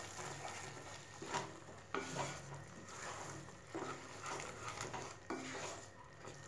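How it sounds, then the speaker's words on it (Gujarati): Sev tomato curry with coriander is stirred in a pan, the spoon scraping and knocking against the metal in several separate strokes over a soft background sizzle. "બરાબર બધું મિક્સ કરી દઈશું"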